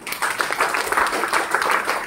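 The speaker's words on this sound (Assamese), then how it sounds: "ৰেডি আছে দিয়ক তালি এটা মাৰক" An audience claps at a direct selling training session in Tinsukia, a short, dense burst of applause from many hands that stays loud and steady for about two seconds.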